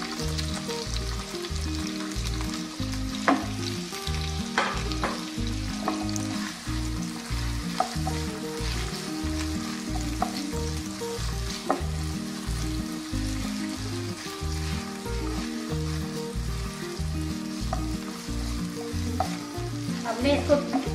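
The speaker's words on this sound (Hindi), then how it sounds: "इसमें हम ये प्याज फ्राई कर लेंगे" Onions fry in about four tablespoons of oil with a continuous close sizzle and occasional sharper crackles, running steadily over a rhythmic low tonal pulse in the background.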